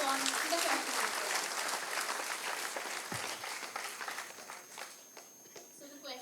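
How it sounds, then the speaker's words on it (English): A large audience at a talk about cancer hospitals breaks into loud, dense applause that gradually thins and fades over several seconds, with a brief low thump midway. "A huge round of applause once again"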